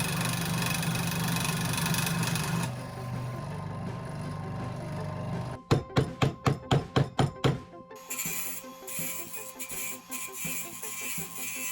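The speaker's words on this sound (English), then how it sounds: "So I'm just using an angle grinder with a grinding blade to take off the sharp edges" An angle grinder with a grinding blade shapes the edges of a metal plate, a continuous motor whine broken midway by a quick rhythmic series of thumps before the grinding resumes.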